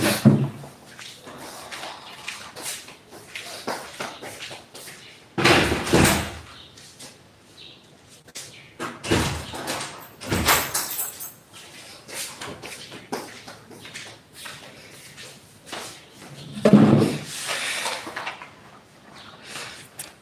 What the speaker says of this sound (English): there's this door that is making noise. The wind is just blowing the door anyhow.